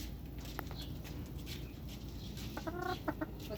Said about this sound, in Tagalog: Ito bago nating alaga, Harold Brown Gray, galing La Union